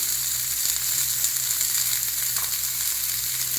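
Steady, bright sizzling of chopped onions frying in hot sesame oil in an iron pan, continuous and close, with faint stirring scrapes and no voices.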